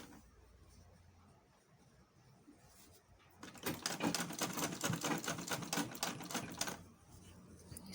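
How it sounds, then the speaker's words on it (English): A sewing machine stitches fabric for a decorative flower throw pillow, starting after a quiet pause and then running in a rapid, steady clatter for a few seconds before slowing. "I'm using sewing machine to sew"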